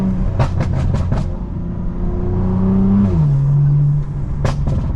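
A BMW G82 M4 driven on the road, its exhaust letting out a burst of sharp crackling burbles, then a steady engine drone that shifts pitch, and a final pair of pops, loud and close.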